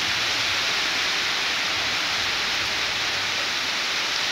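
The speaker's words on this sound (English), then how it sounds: "this rain came out of nowhere." A sudden rain shower pours down as a dense, steady hiss, loud and close, holding unbroken for several seconds with no voices.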